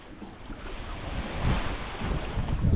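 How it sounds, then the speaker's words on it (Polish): Steady wind gusts buffeting the microphone on a climb, a continuous rushing roar that swells louder toward the end, with no talking. "Ale to fajnie wieje na końcu."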